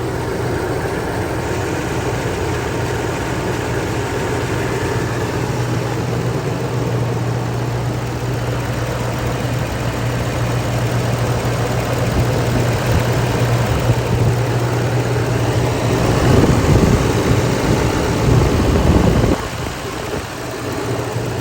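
A 2013 Chevrolet Silverado LML Duramax diesel pickup idles steadily after a thermostat replacement, its loud, even engine drone with a low hum running unbroken and swelling slightly near the end.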